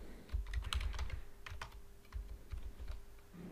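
Close, quiet typing on a computer keyboard: a quick irregular run of key taps and clacks entering a command in Windows, with no voices.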